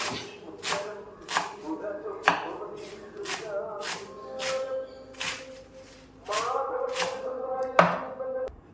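A knife chops amaranth leaves for sambar on a board in a steady series of sharp, close taps, about one per second, with a few quicker clusters, while someone talks quietly in the background.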